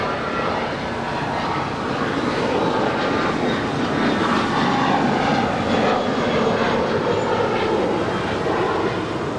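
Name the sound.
American Airlines jet taking off on runway 25 right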